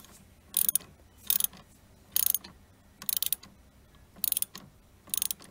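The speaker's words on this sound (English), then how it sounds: "Then take your ratchet and tighten that up clockwise." A ratchet tightens a van battery terminal clockwise in six evenly spaced bursts of quick, crisp clicks with short pauses between strokes, close and clear with no talking.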